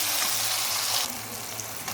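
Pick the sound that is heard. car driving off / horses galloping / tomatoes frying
tomatoes frying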